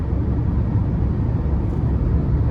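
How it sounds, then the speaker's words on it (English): Cabin wind noise inside a 2011 Toyota Prius cruising on a windy highway, a loud, steady low rumble and broadband rush blended with road and tire drone, continuous and without talk. "coming down the highway here, wind noise, it's a tad up there, but it's very windy outside"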